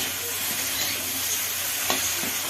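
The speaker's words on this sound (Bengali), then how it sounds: "এবার দিয়ে দিচ্ছি আমি শীষ পালংয়ের ডালটা, শাকগুলো ভালো করে আবারও কষিয়ে নেব" Spinach stems and greens with potatoes stir-frying in a pan, a loud continuous close sizzle with soft stirring scrapes throughout.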